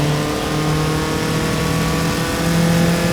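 An SCCA single-seater race car at the Mid-Ohio circuit gives a steady, loud engine drone that holds at an even pitch and level throughout, with no pause.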